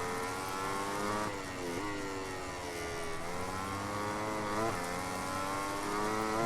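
A racing motorcycle in MotoGP 18 holds a steady, loud engine drone while cruising, with harmonic pitch shifting gently through small gear changes and throttle dips, continuous with no talk.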